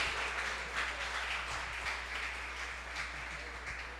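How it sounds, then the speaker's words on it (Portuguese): Church congregation applauding during a worship service: a soft, fairly distant patter of clapping over a low steady hum, modest and continuous throughout. "aplauda o Senhor"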